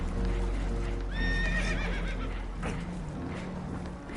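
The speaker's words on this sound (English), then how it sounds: "Horses are spooked" Spooked horses in Red Dead Redemption 2 let out a loud whinnying neigh over steady background rumble, with clip-clopping hooves, other noises and fainter equine calls continuing throughout.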